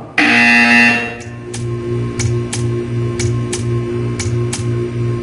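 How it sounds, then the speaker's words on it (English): A loud electronic buzzer in the video game Portal 2 blares for about a second, then a regular series of short ticks follows over a low hum. "You will hear a buzzer."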